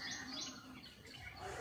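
A small bird perched in a guava tree in a garden chirps in short, faint tweets against soft outdoor background.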